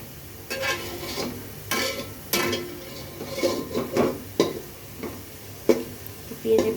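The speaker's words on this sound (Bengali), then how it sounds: "এখন আমি পেঁয়াজের বেরেস্তাগুলো করে নিচ্ছি।" Sliced onions fry into crisp beresta in a pan for beef tehari, with a steady sizzle broken by repeated sharp scrapes and knocks of a spatula stirring against the metal, close and fairly loud.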